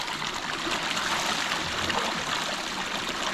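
Water splashes and trickles steadily, close by, as it is poured over a body during an outdoor bath in a Kenyan village, with no voices.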